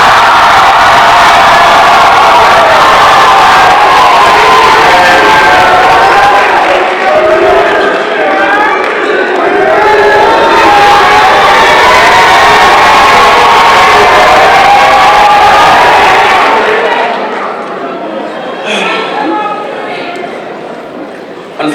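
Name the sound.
graduation crowd cheering and shouting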